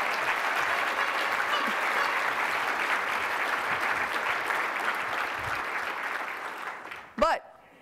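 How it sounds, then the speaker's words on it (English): A keynote audience at AORE 2014 gives the organization a long round of applause, dense clapping that holds steady for about seven seconds before fading, followed by a short burst of speech. "So round of applause for AORE."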